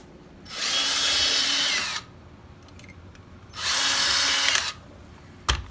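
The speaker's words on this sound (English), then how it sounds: "make some little guide notches and then drill 2 more holes" Two bursts of a power drill whining through the metal of a fencing mask, each about one and a half seconds, separated by a pause with faint handling clicks.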